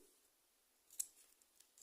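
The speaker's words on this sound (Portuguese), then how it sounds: "eu vou cortar aqui o excesso" Scissors snip once through excess yarn on a crocheted heart keychain, a faint single close cut in near silence followed by a few tiny clicks.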